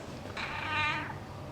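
A talkative cat meows once, a short, clear, fairly close call rising and falling over about a second, alone without people talking.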